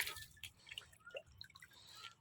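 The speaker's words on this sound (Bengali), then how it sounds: "তার আগে জলগুলো এইভাবে দিয়ে দেবে আমিও দিয়ে দিচ্ছি জল" Water poured out by hand among potted lotus plants in a garden, a close, soft run of drips and splashes in short uneven bursts, no voices.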